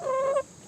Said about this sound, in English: this is Cogburn the rooster